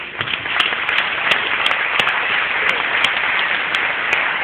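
Audience applause at a Galileo prize ceremony honoring a Nobel Peace Prize call, steady crowd clapping with a few sharper individual claps, moderately loud and without talk.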